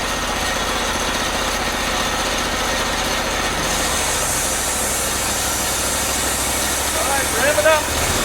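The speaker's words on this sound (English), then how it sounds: "And then ready, rev it up, and open the valve." The engine of a trailer-mounted hot water sewer jetter runs loud and continuous, its pitch shifting partway through as it is revved, with some talk over the steady drone.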